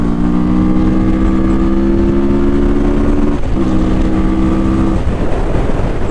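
A Mash FR750 motorcycle engine roars hard under kickdown acceleration, a loud steady drone that briefly dips at a gear change, then pulls on over wind rush.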